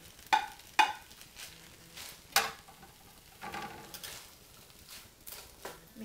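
Fried rice with frozen peas, carrots and freshly added bean sprouts being stir-fried in a pan: a soft, steady sizzle with scattered sharp clinks and scrapes of the spatula, fairly quiet and close, with no talking.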